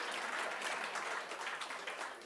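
An audience at a Women's History Month celebration claps in a brief, faint burst of applause, a dense patter of many hands heard from a distance.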